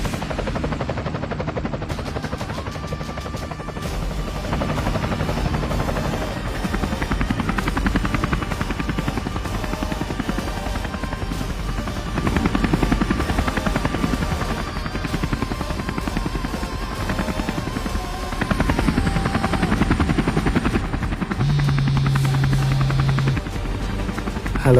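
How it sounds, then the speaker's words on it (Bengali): A helicopter sound effect in a comedy drama: a loud, continuous rotor thump and engine whine that swells and fades as it passes, running for the full length without speech. "আরে আমার জন্য কেন হেলিকপ্টার আনছেন আপনারা?"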